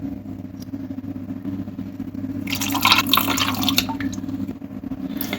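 A little water is poured onto chicken in a cooking pot, a splashing, trickling pour that swells in the middle and tapers off over steady low background hum.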